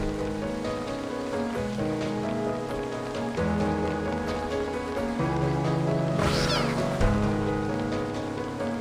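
Splinter cats meow amid falling rain in the game Reverse 1999, with a brief cry standing out near the end over steady musical chords and a soft rain wash.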